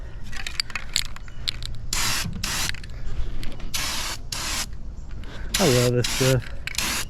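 Rust-Oleum Turbo spray paint is applied to a custom car trailer in several loud hissing bursts from the can, separated by rattles and creaks, and someone talks briefly in between.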